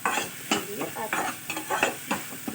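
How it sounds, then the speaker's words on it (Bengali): Paneer frying in a ghee and oil mix for a vegetarian korma, stirred with a spatula in repeated scraping strokes over a continuous sizzle, close and clear. "এবারে ভালো করে নাড়াচাড়া করবেন। এটা ঘি দিয়ে রান্নাটা বেশি ভালো লাগে।"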